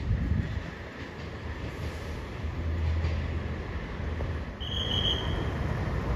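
An express train runs through Luang Chit Rot station, a steady close rumble of wheels and cars passing continuously with a brief high tone near the end.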